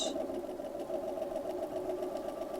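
A sewing machine runs stay stitching along a fabric edge, giving a steady close mechanical hum with a fast, even rapid whir throughout and no pauses.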